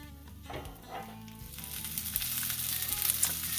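Food frying in a hot pan, a quiet but steady crackling sizzle with scattered pops, rising slightly over a few seconds, close and without talk.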